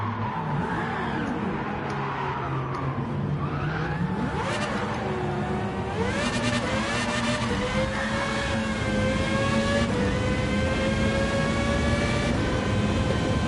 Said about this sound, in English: Even more louder when you're in the car, the engine.